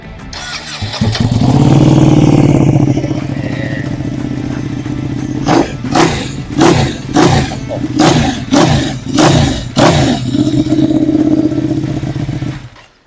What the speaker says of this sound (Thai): เดี๋ยวเราไปฟังเสียงเครื่องยนต์กันหน่อยนะครับ